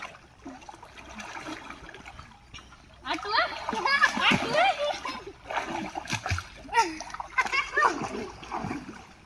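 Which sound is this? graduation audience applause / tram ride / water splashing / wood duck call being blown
water splashing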